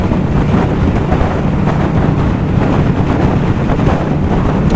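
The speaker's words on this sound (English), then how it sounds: "Man, it's so windy." Heavy, roaring wind buffets the microphone of a rider on a Honda VFR800F motorcycle, a constant, close, low rushing blast with no voices over it.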